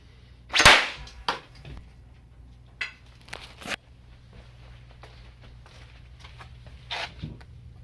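An explosive blow dart made from bike parts goes off with one sharp, loud crack, followed by fainter clicks and rustling close by.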